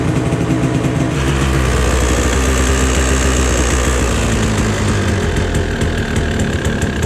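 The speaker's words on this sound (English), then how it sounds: "Oh, now the idle's starting to go down." A cold-started Kawasaki KDX two-stroke dirt bike running rich idles loud and close, a steady buzzing putter that holds throughout and begins to settle lower.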